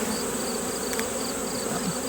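Honey bees buzz steadily at an opened hive during an inspection, a dense, continuous close drone with no talk over it.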